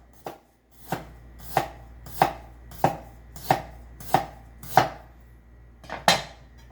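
A knife chops through ginger on a board in about ten evenly spaced, crisp strokes, each one close and distinct, with no talking.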